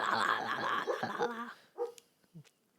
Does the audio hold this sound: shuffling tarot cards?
no